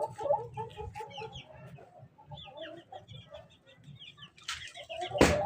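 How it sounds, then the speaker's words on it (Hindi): A hen clucks repeatedly up close in short, busy bursts, ending with a sudden flurry of flapping wings and a louder squawk. "चूज़ों को मैं अंदर लेके जाऊंगा, इस मुर्गी को भी अंदर लेके जाऊंगा।"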